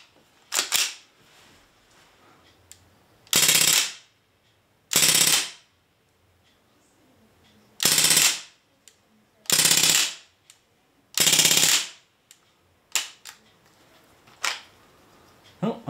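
An airsoft gun fires fully automatic over a ballistic chronograph: several loud, close bursts of rapid rounds, each about a second long, separated by quiet gaps and a few single shots, with no talk between.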